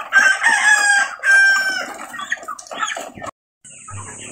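Roosters crow loudly on a farm amid clucking chickens, the calls close and repeated before a short silence and a burst of bright noise at the end.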